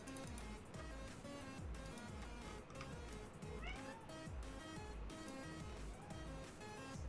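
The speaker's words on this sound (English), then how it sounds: "Cat, stop it." A house cat meows a few times, faint and short, beneath steady game music and effects from a Kerbal Space Program session, which fill the background throughout.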